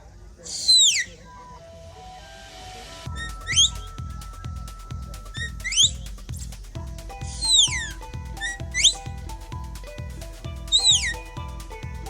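A sheepdog handler's whistle sounds in sharp, sweeping blasts at Scottish games, repeated five times at intervals over a steady, rhythmic low pulsing in the background.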